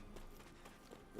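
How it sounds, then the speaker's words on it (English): A horse in a Tales of Arise game town gives a short run of soft hoof clip-clops, faint and rhythmic, heard against quiet background music. "Good normal horse over there."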